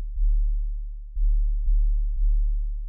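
Isolated lowest octave of a kick drum and bass, 30 to 60 Hz: a deep continuous sub-bass hum with four soft, dull thumps at uneven intervals.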